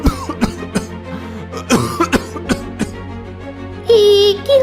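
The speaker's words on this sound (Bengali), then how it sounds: "আপনি কাশছেন কেন?" A cartoon beggar coughs in several short, harsh bursts spread across a few seconds, close and fairly loud over a faint background tone and music, with a brighter sustained sound near the end.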